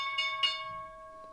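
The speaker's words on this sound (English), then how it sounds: "here comes the opening bell" A stock market opening bell rings with a sustained, steady electronic tone, strongest at the start and fading slightly over a second or so, with a couple of brief clanging strikes.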